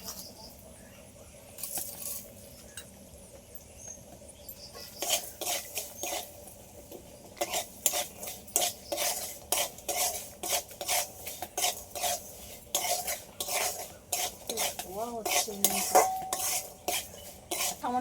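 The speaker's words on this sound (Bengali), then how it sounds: "তার দু চামচ চিনি দিয়ে দিচ্ছি" A metal spoon adds sugar to mango chira pulao cooking in a pan, with rapid clinking and scraping against the vessel in irregular bursts, quiet at first and then busy and close.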